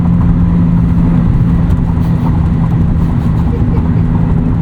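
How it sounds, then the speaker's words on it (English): A 1995 BMW E36 325i with a five-speed manual and straight-piped exhaust drones steadily and fairly loudly from inside the cabin while driving, a low constant rumble with no clear revving. "This is the quietest straight piped exhaust I've ever experienced."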